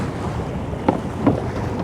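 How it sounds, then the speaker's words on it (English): Strong wind gusting over a small fishing boat at sea, a constant roar of buffeting against the microphone with water sloshing beneath and two brief bumps. "the wind just kicked up and it was brutal today"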